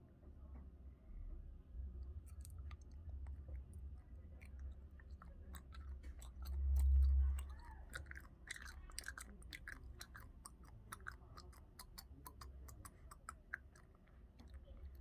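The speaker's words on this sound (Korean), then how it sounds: "제가 지금 요만큼이나 짰어요. 먹어볼게요. 한입이라도 먹자." Quiet close-up chewing of a soft, sticky strawberry-flavored honey jelly, with small moist clicks and squishes in a steady rhythm and one brief louder thump midway.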